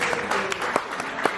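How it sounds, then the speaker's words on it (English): A pageant audience applauds for a representative introduced on stage: steady dense clapping with a few sharper claps standing out, fairly loud and continuous, with a voice faintly beneath it. "Let's give a round of applause to Shannon."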